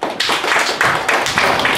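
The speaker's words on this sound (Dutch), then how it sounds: "En ik wil graag applaus voor jou." Applause at a school Sinterklaas celebration, a crowd clapping steadily and fairly loudly for under two seconds with dense, overlapping claps.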